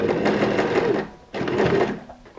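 Sewing machine stitching a back stitch on a recycled handbag, two loud close bursts of rapid mechanical whirring separated by a brief pause.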